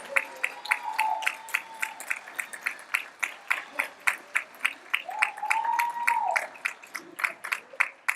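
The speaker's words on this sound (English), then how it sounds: "Give them a round of applause." A graduation crowd applauds with steady, moderately close clapping, while a voice speaks over it in two brief stretches.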